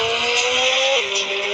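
A motorbike engine in a video game drones with a steady, whiny tone, its pitch stepping down once partway through, loud and continuous with no talking.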